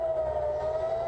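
A steady air-raid siren tone sounds from a distance in Israel during a Hamas rocket attack, holding one pitch over faint background noise for a brief moment.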